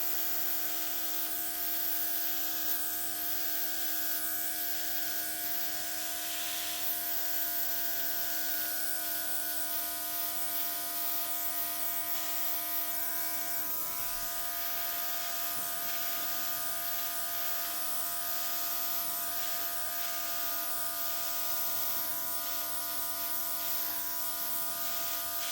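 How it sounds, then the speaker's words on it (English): A steady, continuous hiss and buzz of an airbrush spraying paint without pause, with a constant mechanical hum underneath. "I think I'm going to do airbrush instead of blow dryer."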